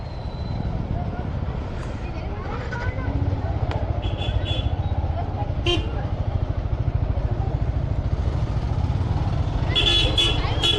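A group of motorcycles, a KTM Duke 250, an older Duke 250, a Duke 200, a Yamaha R15 and a Hero XPulse, rides together, a continuous engine drone with occasional horn toots while people talk over it.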